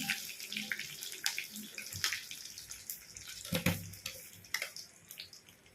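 Water splashes and trickles into a pot of sambar with vegetables in irregular bursts, close and moderately loud, with no talking.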